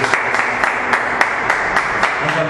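A church congregation claps together at the close of a service, a steady even patter of many hands with faint voices mixed in, filling the space at moderate loudness.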